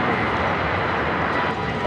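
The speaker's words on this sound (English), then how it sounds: "This flight heading to San Antonio, Texas. It's an A319." An Airbus A319 airliner bound for San Antonio roars loudly and steadily overhead at a plane-spotting spot near LAX, a broad continuous engine rush with no pauses.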